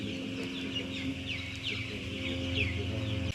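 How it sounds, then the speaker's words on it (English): Soft chirping and clucking from a group of young chickens, steady and close, with a low mechanical hum running underneath. "so there are the baby chickens"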